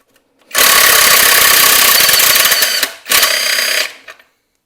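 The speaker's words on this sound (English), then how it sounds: "with the old impact driver again." An impact driver works on bolts of a Jaguar XKR rear subframe during a restoration. It gives a loud, close, rattling hammer burst of about two and a half seconds, then a brief pause and a second, shorter burst.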